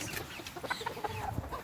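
Chickens cluck in a winter garden, a close, busy run of short clucks and warbling calls over a soft outdoor background, with no talking.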